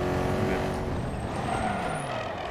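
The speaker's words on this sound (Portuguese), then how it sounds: "minha freada foi tão cabulosa que eu fritei o carro" A car in the video game Battlefield 2042 brakes hard, its engine roar and skidding screech blending into a loud, continuous mechanical rush with a rising whine.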